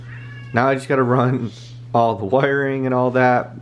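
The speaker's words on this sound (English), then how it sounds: "Apologize for the noise. My cat wants food as always" A hungry house cat meows loudly and repeatedly, a few drawn-out, wavering cries close by, while someone talks over them about fitting the wiring into a liquid-cooled PC.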